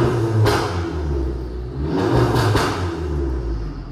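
A remapped VW Jetta TSI engine revs hard in loud, rising surges, with sharp pops and crackles from the exhaust between the pulls, close and alone.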